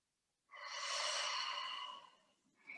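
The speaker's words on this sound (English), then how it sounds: "Take a deep breath in." A single deep, slow inhale during a Pilates exercise, close and airy, lasting about a second and a half before tapering off, followed by the start of another breath.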